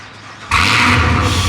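After a brief quiet moment, a car engine with a ported supercharger fires up abruptly in a cold start into a loud, rough roar that holds steady.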